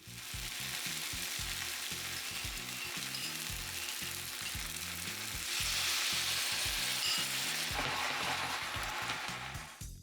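Mongolian beef noodles frying in a reducing sauce in a pan, an even bubbling sizzle with stirring clatter throughout, growing a little brighter midway, close up.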